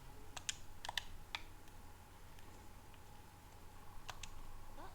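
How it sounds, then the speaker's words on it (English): Typewriter keys in the Alone in the Dark video game tap out a few sharp, quiet clacks in small clusters, with a pause in the middle before a couple more strikes, over a low background hum. "I'm touching your typewriter."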